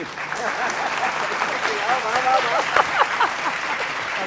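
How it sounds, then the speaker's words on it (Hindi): Audience applause at a Hindi political talk show, a continuous wash of clapping at moderate level running under a voice talking throughout. "ताली बजा दो"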